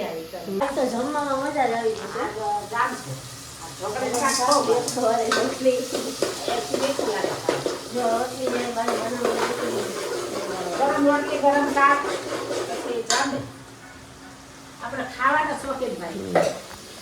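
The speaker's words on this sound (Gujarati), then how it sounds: "વઘાર કડક લાગ્યો એટલે" Spices crackle and sizzle in hot oil while a spoon scrapes and clinks against the pan, with a person talking over the cooking throughout.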